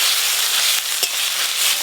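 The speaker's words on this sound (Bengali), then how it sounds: "গ্রেট করে রাখা পেঁয়াজ প্রথমে একটু হালকা করে ভেজে নিই।" Grated onion fries in hot oil in a home kitchen, a loud, steady, close sizzle and hiss with one brief stir or clink near the middle.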